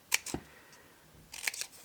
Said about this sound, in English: I'm actually going to hack this with my pair of scissors